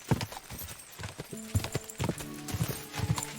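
Horse hooves clip-clop in a steady, close rhythm while riding through woods in the video game Kingdom Come: Deliverance 2, with a faint whinny now and then over a low ambient bed.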